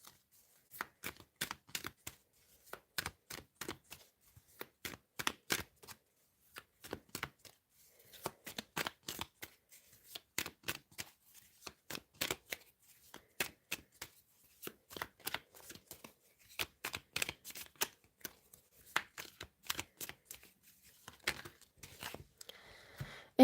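Tarot cards are shuffled and drawn at close range: quick repeated riffling and snapping bursts in an irregular rhythm, with short pauses between handfuls and no talking.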